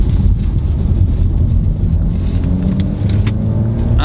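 A 2019 Honda HR-V Sport accelerates hard as its VTEC engages, a loud, steady engine drone with rising harmonics under heavy wind and road noise from inside the cabin.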